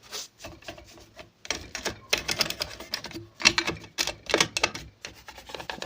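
A toothbrush scrubs the parts of a sewing machine clean, giving quick, scratchy bristle strokes in uneven bursts, close and fairly quiet, with no talking.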